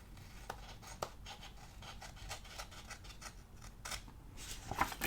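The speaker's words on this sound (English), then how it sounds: "Just cut this extra part off." Scissors cut through a paper planner page in a quick string of close, crisp snips and rustling slices, with a louder sharp cut near the end.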